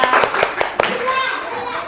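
Classroom audience applause, a brief burst of scattered hand claps with overlapping children's voices, fairly close and lively, tapering quickly.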